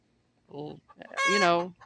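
A hen gives a short cluck followed by a longer, rising squawking call, close and clear against an otherwise quiet background.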